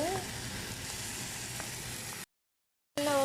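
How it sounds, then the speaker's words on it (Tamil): Onions sizzle and fry steadily in a hot pan while salt goes in, a continuous close crackling hiss that cuts out briefly near the end and then returns. "நல்லா பொரிஞ்சு கொண்டு வருது"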